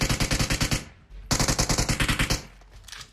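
Rapid automatic gunfire in the video game PUBG, two loud sustained bursts of evenly spaced shots separated by a short pause, close and dominant, followed by fading echoes and a faint trailing sound.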